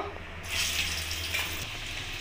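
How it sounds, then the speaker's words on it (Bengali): Potatoes frying in hot oil in a wok for a vegetarian biryani, a soft continuous sizzle that swells as they go in and then holds steady and fairly quiet. "এবার আমি আলুগুলোকে ভেজে নেব।"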